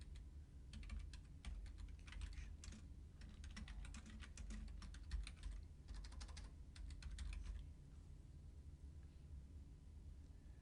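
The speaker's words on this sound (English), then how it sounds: "I'm going to use Shift Enter to just go down one space and type" Computer keyboard typing in quick bursts of close, crisp key clicks with short pauses between runs, fading to quiet near the end over a low steady background hum.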